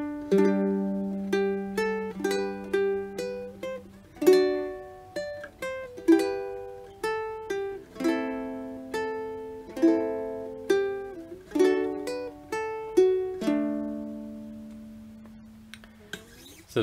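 A ukulele picks out the melody of "Simple Gifts" fingerstyle, note by note, each pluck ringing and fading, with a gentle steady rhythm and a held chord near the end; no talking.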